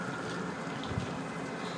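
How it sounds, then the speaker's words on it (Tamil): A boat engine in the video game Granny Chapter 2 starts up and settles into a steady, even rumble with a soft thump near the middle, short and fairly quiet. "Start engine."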